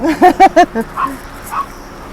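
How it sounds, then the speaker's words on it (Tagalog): A puppy barking outdoors in the rain, three quick loud yips in a row close by, followed by fainter whimpering calls trailing off into quiet. "May tuta doon, oh. May tuta doon, oh. Ayan, oh, tuta."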